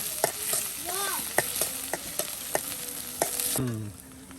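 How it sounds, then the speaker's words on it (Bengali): Ginger paste, chopped onion, chili and cumin paste fry in oil in a village kitchen, a steady sizzle broken by sharp scraping stirs, with a brief chirping tone midway and a louder clatter near the end. "এই দেখুন আদা বাটা, পেঁয়াজ কুচি, মরিচ কুচি, জিরা বাটা সব একসাথে দিয়ে কিন্তু এই যে এটা তেলে এখন ভেজে নেওয়া হচ্ছে।"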